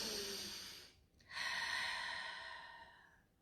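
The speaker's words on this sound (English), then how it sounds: "Slightly exaggerate the breathing." Slow, deep, deliberately exaggerated breathing, a long drawn-out exhale, a short pause, then another long sighing breath, close and soft with no talking.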